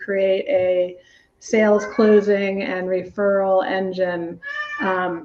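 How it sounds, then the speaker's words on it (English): A pet cat meows loudly and repeatedly close behind a person who keeps talking, the drawn-out cries overlapping the speech throughout. "I don't know if you guys can hear my cat, but she's behind me screaming."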